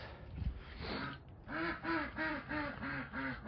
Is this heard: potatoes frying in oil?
no